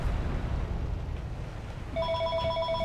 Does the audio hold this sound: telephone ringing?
yes